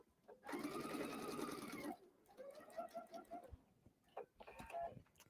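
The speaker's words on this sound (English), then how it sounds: "So I'm just going to stitch that down." A sewing machine stitches down a narrow rolled hem on a single-layer quilt, running loud and steady for about a second and a half, then in shorter softer bursts with small clicks between.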